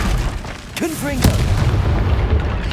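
A Confringo fire-blast spell explodes in the Hogwarts Legacy video game, a loud booming burst over a rumbling game soundscape, with a voice calling out around it.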